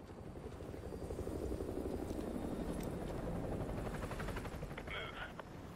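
An enemy helicopter in the Modern Warfare 2 Remastered campaign thumps loudly and continuously with heavy rotor noise, while a voice speaks over it briefly.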